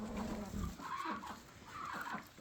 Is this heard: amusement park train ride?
no